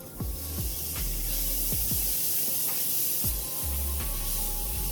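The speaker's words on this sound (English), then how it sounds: "Now it's time for us to add our 1/4 cup of butter." A quarter cup of butter sizzles and browns in a very hot, empty pot after drained macaroni, giving a steady close hiss with occasional soft low thumps and no talking.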